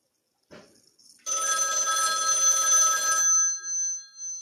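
A 1960 Western Electric rotary dial desk phone rings with one loud, sustained metallic bell burst of about two seconds, close and clear, trailing off into faint residual tones.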